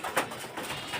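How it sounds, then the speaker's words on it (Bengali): Pigeons kept on a home farm coo softly and briefly indoors, a faint low murmur with a slight flutter. "তো আপনারা দেখতে পাচ্ছেন কবুতরগুলো ঘরের ভিতর আসলো আর কি।"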